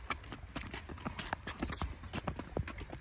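Hooves of a liver chestnut horse, about 14.2 hands, clip-clop in a quick, irregular rhythm on a hard surface in the rain, fairly close, over a soft background hiss.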